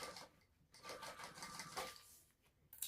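A sewing machine stitches along the edge of a crossbody bag in quiet bursts of rapid needle chatter, pausing briefly between runs.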